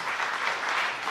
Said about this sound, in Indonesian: Yang mau tepuk tangan yang meriah bagi Allah kita.